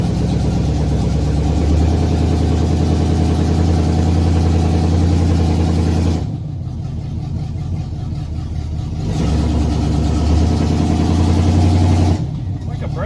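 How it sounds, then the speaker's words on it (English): An old car's engine, long abandoned in a scrap yard, revs hard against locked-up brakes, a loud strained drone that sags twice as the throttle eases before climbing again. "I'm pushing the gas, and it's just trying to push through the brakes"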